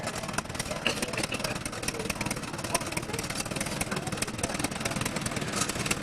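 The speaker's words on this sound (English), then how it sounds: "roll the barrel with a tractor" A tractor engine runs steadily at a tractor show while the tractor rolls a barrel, giving a continuous, fairly loud mid-pitched rumble mixed with broad outdoor noise, with no clear change in pace.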